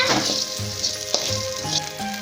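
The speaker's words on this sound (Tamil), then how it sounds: "நல்லா வதக்கி விடுங்க" Food sizzles and crackles steadily in a hot pan while being sautéed for pirandai chutney, with soft scraping of stirring underneath.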